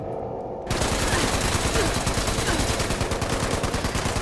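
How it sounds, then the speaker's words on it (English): Rapid sustained machine gun fire from the Fallout 76 video game, starting abruptly after a brief quiet lead-in and continuing as a loud, dense, unbroken automatic burst to the end. "We'll try the machine gun."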